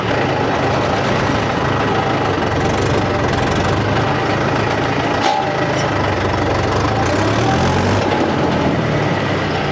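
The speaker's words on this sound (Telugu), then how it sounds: "మన ట్రాక్టర్ ఎంత స్పీడ్ పోతుందో చూపెడతా ఆగుర్రి" A Mahindra 575 DI tractor engine runs steadily and loudly up close, a dense low diesel drone with a knocking rumble that holds for about ten seconds without letup.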